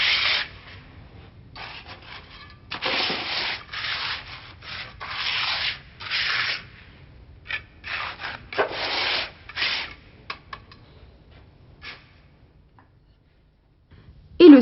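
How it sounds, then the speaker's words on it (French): A mason spreads concrete in window-sill formwork with a trowel, giving bursts of gritty scraping strokes of varied length separated by pauses, close and fairly loud. "le maçon dépose une partie du béton dans le coffrage. L'étale à la truelle."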